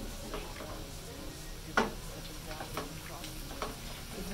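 Shrimp frying in a pan, a steady soft sizzle with occasional stirring taps and one sharper clink, fairly quiet and close.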